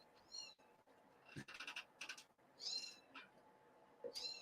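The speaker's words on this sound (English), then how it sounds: "I have got a kitten stuck in here somewhere." Several high, thin kitten meows come in short bursts, fairly close, mixed with some rustling and soft knocks, with no talking.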